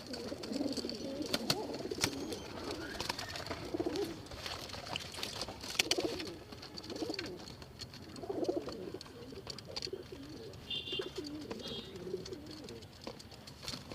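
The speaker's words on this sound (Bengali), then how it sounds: "ওই যে একটা সাপচিলা কবুতর, এই একটা বাচ্চা, অনেক কবুতর আছে।" Pigeons coo in low, soft, repeated bursts throughout, with a few higher chirps and rustling around a pigeon loft holding many birds, including young ones; no one speaks.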